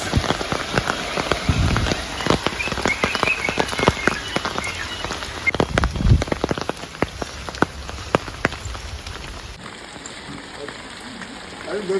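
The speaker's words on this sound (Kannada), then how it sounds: "ಇದೇ ರೀತಿ ಮಳೆ ಬಂದರೆ" Steady rain patters on surfaces throughout, with scattered drips and occasional thumps, continuous and fairly close.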